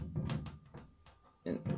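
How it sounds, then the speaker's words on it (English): Someone handles the enclosure door of an Ender 5-Max 3D printer during assembly, making a few faint knocks, clicks and shuffling bumps in quick, irregular succession with no talking. "you grab your door"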